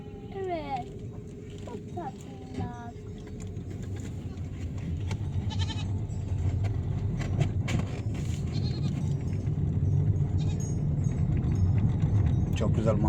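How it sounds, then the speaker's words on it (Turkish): Goats bleating near and far over a steady outdoor rumble at a seaside cove, with people talking in the background and a jangle of metal now and then. "Keçilerle karşılaştık."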